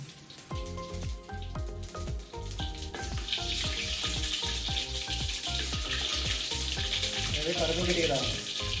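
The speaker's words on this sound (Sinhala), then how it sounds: "අපි ඉස්සෙල්ලාම තෙල් රත් වුණාට පස්සේ තෙල් එකට දානවා අබෑට ටික." Mustard seeds hit hot oil and a bright, hissing sizzle swells from the middle onward, partly masked by rhythmic background music.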